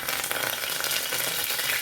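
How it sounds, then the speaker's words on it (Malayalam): Steady, crackling sizzle of curry leaves frying in hot coconut oil, close up and continuous with no voices. "എണ്ണ ചൂടായിട്ടുണ്ടെങ്കിൽ കരുവേപ്പില ഇട്ട് കൊടുക്കാം"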